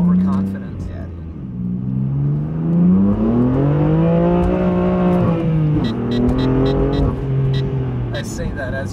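A 600-horsepower BMW M4 on E85 with a loud exhaust revs and rises in pitch through repeated swells during donuts, sounding close and dominant throughout with people talking underneath.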